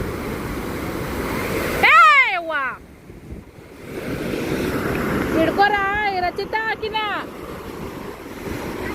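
Sea waves wash and surge around a shore in a steady, loud roar, heavily buffeted by wind against the microphone, while people talk and call out over it.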